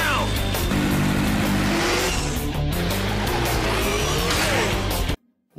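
A motorcycle engine revs loud and continuous through a TMNT cartoon chase, with rising pitch, tire-squeal-like sweeps and other vehicle noise layered in, before cutting abruptly to near silence at the end.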